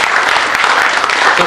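Sustained, loud audience applause at an achievement awards ceremony, dense clapping from a large crowd honouring high-scoring students, steady throughout with no pauses.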